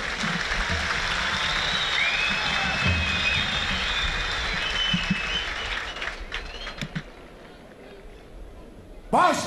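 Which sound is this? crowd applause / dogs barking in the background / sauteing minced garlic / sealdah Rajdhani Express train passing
crowd applause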